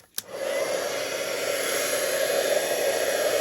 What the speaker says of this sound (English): Next step is we're going to heat emboss.